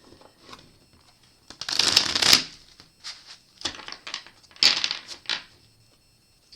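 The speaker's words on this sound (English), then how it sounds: "Get one more good shuffle here." Tarot cards being shuffled in a series of riffling bursts, close up and crisp, with short gaps between shuffles.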